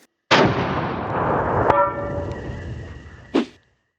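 A single loud long-range rifle shot with a booming report and a long rolling echo that decays, a distant impact crack partway through, then a brief sharp knock near the end.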